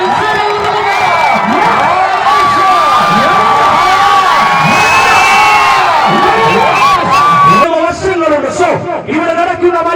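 A large crowd at a tug-of-war competition roars, whoops and cheers loudly and continuously, with shouting voices rising and falling and a brief dip near the end.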